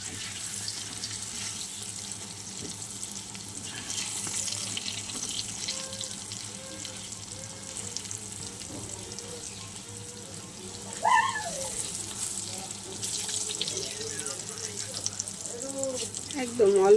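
Water poured into a hot pan of frying spices and cumin, a running, splashing trickle with faint sizzle, continuous and close, rising sharply at the end.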